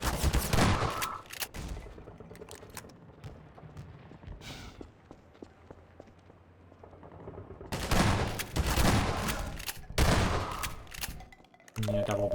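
Heavy blasts of gunfire from the double-blast weapon in the Half-Life 2 game ring out in loud bursts at the start and again near the end, with quieter footsteps and movement between them.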